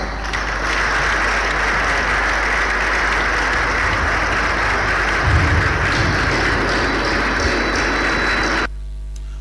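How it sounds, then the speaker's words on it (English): A large room at an event in Edo State, Nigeria, applauds the First Lady with steady, dense clapping for over eight seconds over a low hum, cutting off abruptly at the end. "a round of applause"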